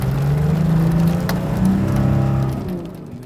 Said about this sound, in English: He's pressing down on the gas pedal as hard as he can, but there's no sign of forward movement.